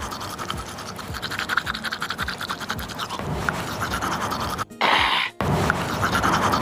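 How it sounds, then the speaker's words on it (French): A toothbrush scrubs teeth with steady rough scratching strokes up close, joined by breathy panting; a brief quieter gap breaks the sound before the brushing resumes. "Nettoie-les, il t'en faut encore. Vas-y, brosse."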